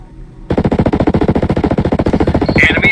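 Sustained automatic gunfire in the video game Ghost Recon Breakpoint, a loud, rapid, evenly spaced burst of shots that starts abruptly and keeps going for over two seconds.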